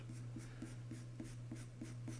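A white pencil makes quick, regular scratching strokes on paper while sketching tendrils and sinewy detail, about four strokes per second, over a steady low background hum.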